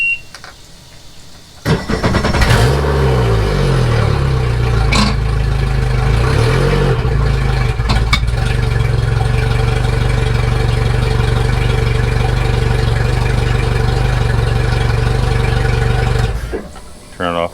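A Bass Tracker boat engine with a repaired ignition fires up after a brief quiet moment and then runs at a steady, loud idle for about fifteen seconds before cutting out near the end.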